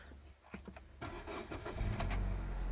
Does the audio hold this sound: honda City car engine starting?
yes